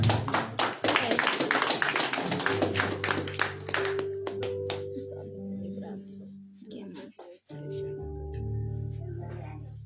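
A church congregation claps hands at a Spanish-language worship service, a dense burst of applause in the opening seconds that fades out as sustained tones and a voice take over.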